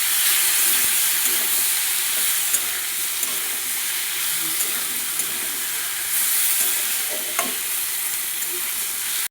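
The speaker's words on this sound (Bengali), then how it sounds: "আদাটা ভালো করে কষিয়ে নেব।" Ginger paste stir-fried in a pan for a vegetarian Bengali dish, a continuous bright hiss of frying with occasional scrapes and taps of stirring, close and unbroken by speech.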